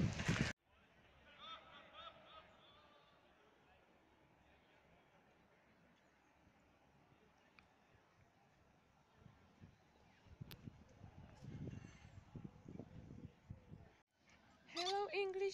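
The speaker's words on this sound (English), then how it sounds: "English duck." Ducks on a river in Cambridge, England, with honking or quacking calls sounding at the start and end over steady outdoor ambience, and rustling, handled noise in between.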